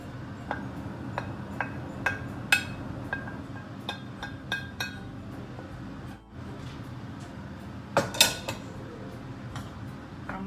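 A spatula clinks and scrapes against a pan while minced catfish larb with shredded kaffir lime leaves is dry-roasted, with sharp metallic taps at irregular intervals over a low sizzle.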